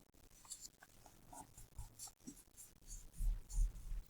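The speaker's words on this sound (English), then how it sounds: "I'm going to take this point, I'm going to fold it over just a little bit." Paper being folded into an origami butterfly, with soft crinkles and creases that build into a few louder, closer rustles and presses near the end, with no speech.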